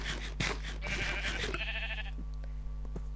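Sheep in the video game Minecraft bleat several times in quick succession, short nasal calls close by over a faint steady background tone.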